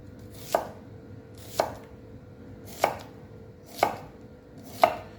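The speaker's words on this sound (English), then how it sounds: "We're going to go ahead and cut it in half, and we'll just start making slices." Five evenly spaced knife chops through an onion on a cutting board, each a crisp close thud about a second apart, with no voices.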